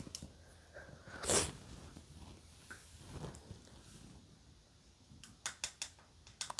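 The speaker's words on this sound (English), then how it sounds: "I think I have to sneeze, which is not cool." A single sharp sneeze bursts out near the start, followed by quiet breathing and a few faint clicks or taps toward the end.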